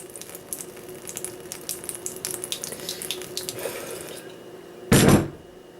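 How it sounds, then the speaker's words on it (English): Wild Turkey whiskey poured out in a small kitchenette, a steady trickling stream running for a few seconds before a brief louder splash near the end. "I'm gonna take this wild turkey. I'm gonna pour one out."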